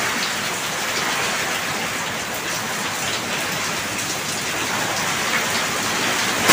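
Heavy, steady rain pours down during Typhoon Odette, a signal number 4 storm, with a dense unbroken hiss of drops striking surfaces close by and no voices.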